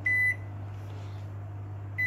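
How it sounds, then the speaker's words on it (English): A microwave oven hums steadily while defrosting, with a sharp electronic beep at the start and another right at the end, alone and fairly quiet. "we're going to just put it in the microwave just to defrost it"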